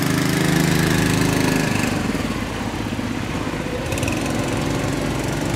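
A small pilot boat running ahead to guide a barge down a river, its engine loud and close with a rough, steady chugging putter.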